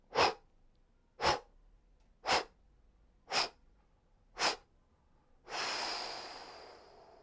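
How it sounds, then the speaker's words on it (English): Slow breathing during a guided breath-and-movement exercise: five short, evenly spaced breaths about a second apart, then one long, steady exhale trailing off, close and fairly quiet with no talking. "Long exhale."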